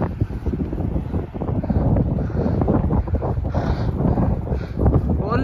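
Strong headwind buffets the microphone on a mountain road in Ladakh, a loud, continuous rumbling roar with gusty surges throughout and no clear speech.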